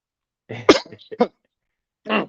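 A cluster of rough, throaty coughs up close, broken into short bursts, then one more cough after a brief pause.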